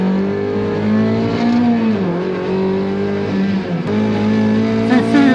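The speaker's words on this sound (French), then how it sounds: "Il faut faire pivoter la voiture, voilà, pour essayer d'accélérer le plus tôt possible ici." A rental car accelerating on a race track in Japan, its engine loud and close with a rising and falling whine through gear changes, a continuous drone filling the whole stretch.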